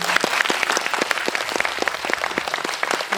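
Audience applauding in a cinema auditorium during a film screening Q&A event, a dense, steady burst of many hands clapping at once, close and lively throughout.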